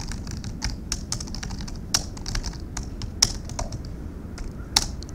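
A florist types on a computer keyboard in a soft-spoken flower shop roleplay, with quick, irregular clicks near and distinct, and occasional sharper key strikes over a quiet background.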